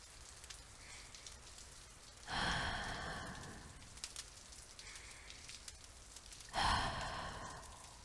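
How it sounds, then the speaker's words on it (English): Slow, relaxing ASMR breathing: two long, soft breaths, one inhale and one exhale, close to the microphone against faint rain-like background noise, with no speech. "Let the sound of my breathing lull you into a sense of peaceful bliss"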